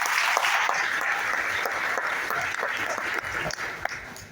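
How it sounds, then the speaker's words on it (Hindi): A crowd at an indoor business meeting or seminar in India applauds in a steady, full wash of clapping. It is dense and continuous for several seconds, with a few sharper individual claps near the end. "एक बार उनके लिए जोरदार तालियां होनी चाहिए।"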